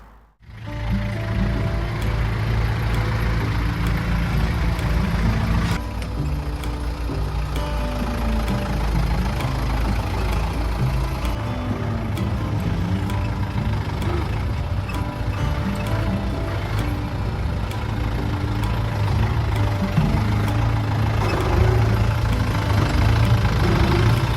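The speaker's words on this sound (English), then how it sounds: "So Jade, go and grab the tractor for us" A tractor engine runs steadily close by, a loud continuous mechanical chug with rattling, clanking knocks over the top. It keeps going with no talk.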